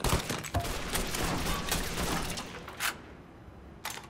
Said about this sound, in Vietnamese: Không ngờ là bắn mà nó vỡ luôn đấy ta.